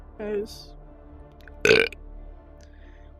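A single loud, rough burp erupts close to the microphone in the middle of the clip, preceded by a brief spoken word and faint background voices.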